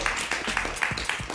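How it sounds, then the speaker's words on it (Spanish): An audience applauds at a book event with journalist Fernando Villavicencio: a brief burst of steady, dense clapping from a room of people, moderately loud and close. "Un aplauso para él, por favor."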